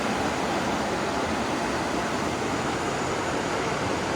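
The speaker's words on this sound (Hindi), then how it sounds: "तुंगभद्रा नदी अपने प्रवाह से बहती हुई और इससे आने वाली आवाज़ आपको बहुत ही अच्छा महसूस होगा" The Tungabhadra river at Hampi flows steadily, a loud, dense broadband rush of water with no pauses or voices for the whole stretch.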